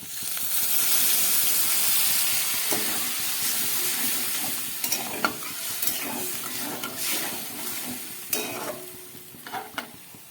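Bengali potato and poppy seed curry cooking in a pan after a little water goes in, a steady bubbling sizzle and steam hiss with occasional scraping and stirring clicks, close and continuous.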